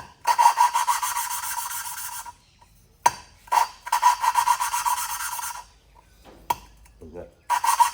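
An engine valve is lapped by hand against its seat, giving a coarse, rhythmic rasping grind in bursts of several seconds separated by short pauses. The sound is close and steady, with no talking.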